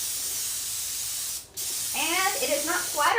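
An aerosol can sprays paint onto an EVA foam Neutrona wand prop with a loud, steady close hiss that pauses briefly and then resumes while a person talks over it.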